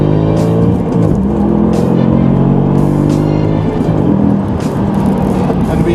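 An Audi RS4 B7 accelerating hard in second gear from about 35 mph, the engine roaring loudly and close with rising revs and a few brief gear-change dips, heard from inside the car.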